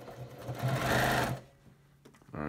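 Sewing machine stitching binding on a t-shirt quilt, a close steady whirring run of stitches that slows and stops, followed by a few small mechanical clicks.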